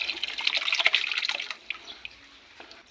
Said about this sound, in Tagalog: Ngayon po, isasalin na po natin ang dugo. ayan, dahan-dahan lang po.